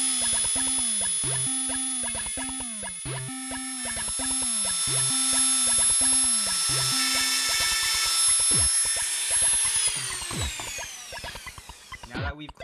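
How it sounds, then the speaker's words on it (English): A handheld Dremel rotary tool fitted with a diamond grinding bit whines steadily as it grinds corrosion off Game Boy battery contacts, pulsing in short repeated bursts early on, then running continuously and spinning down near the end, loud and close. "I'm going to be using my Dremel tool with a diamond grinding bit."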